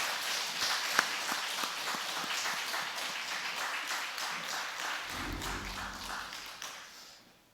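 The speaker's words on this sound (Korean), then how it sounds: "다시 한번 크게 박수하여 주시기 바랍니다" A church congregation applauds during a Sunday service, a broad patter of many hands clapping at moderate volume, joined near the end by a low rumbling sound before fading out.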